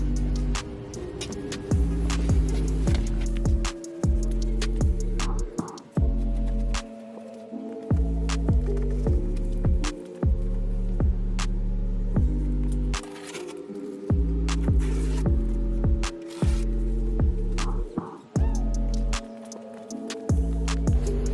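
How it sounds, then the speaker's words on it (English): A power buffer works the plastic rear bumper trim of a BMW E36 M3, its motor giving a loud steady droning hum that repeatedly dips and restarts in short bursts. "So I need to go and buff the rest of it off"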